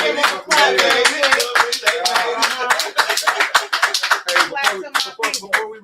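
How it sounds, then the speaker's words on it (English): Audience clapping at a live event with a special guest, a lively close round of hand claps in uneven bursts, rising and falling for several seconds. "let's give them a clap"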